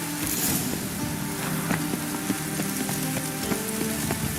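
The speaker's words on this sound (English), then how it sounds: "The rain will cleanse the city streets of filth." Steady rain in The Witcher 3: Wild Hunt patters on hard city street surfaces, a continuous hiss with scattered drip taps, moderately loud and unbroken.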